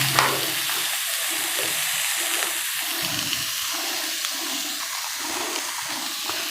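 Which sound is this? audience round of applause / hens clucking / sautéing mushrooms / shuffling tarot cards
sautéing mushrooms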